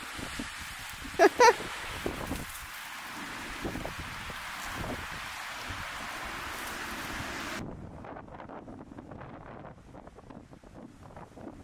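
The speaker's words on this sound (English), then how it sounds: "Yeah, it's so windy." Wind buffets the microphone in gusty rushes with a few sharp bumps, then eases to a softer, steadier outdoor rustle.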